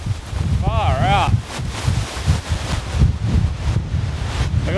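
Strong storm wind gusts and buffets the microphone at a campsite during heavy rain, a loud steady roar with surging gusts, broken briefly by a rising and falling whistling tone near the start.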